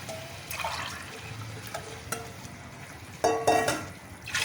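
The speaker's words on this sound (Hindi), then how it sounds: "सबसे पहले हम यखनी डालेंगे।" Yakhni stock poured into a pot of rice in a home kitchen, a soft liquid splashing and trickling with a louder burst of pouring near the end, no talk.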